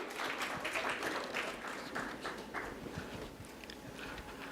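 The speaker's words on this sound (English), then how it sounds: "Can we have a big round of applause for Mr." An audience applauds at a business school conference and awards event in Bangalore, the dense clapping steady and moderately loud throughout, with no talk over it.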